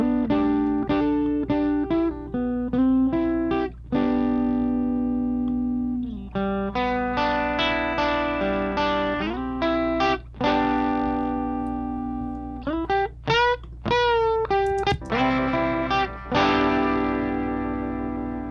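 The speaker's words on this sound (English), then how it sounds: "maybe I want to add a tiny little bit of distortion," Electric guitar played through a distorted amp simulation in Softube Amp Room, with sustained notes and chords in steady phrases, thick and saturated with some echoing ambience.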